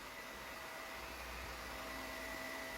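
A JIMMY PW11 Pro Max multifunction floor cleaner runs with its electric brush head fitted, giving a steady, even motor drone and airflow hiss that holds at constant level for the whole stretch.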